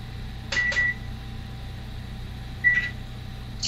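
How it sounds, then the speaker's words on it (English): A kitchen microwave oven hums steadily in the background while three short electronic beeps sound, two close together near the start and one later, fairly close and clear, with no talking. "Moving over to the microwave now."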